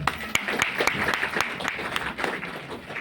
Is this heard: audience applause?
yes